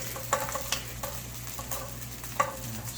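Bacon and vegetable fried rice scooped out of a frying pan, a faint sizzle under a few soft scraping knocks of a utensil against the pan at irregular intervals.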